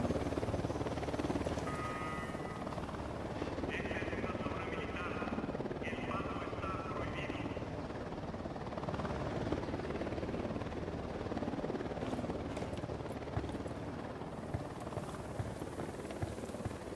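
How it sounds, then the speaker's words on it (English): A helicopter in the Ghost Recon Wildlands game thrums in a steady rotor drone throughout, moderately loud beneath game noise, with a few faint brief tones over it. "Helicopter inbound."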